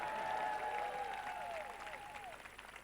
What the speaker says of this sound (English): That's worth applause, too.